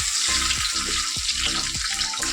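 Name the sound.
egg frying in hot oil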